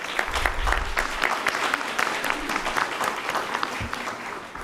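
An audience at a school district board of trustees meeting applauds families standing up, a steady wash of clapping from a crowd in a large room with a few low thumps beneath.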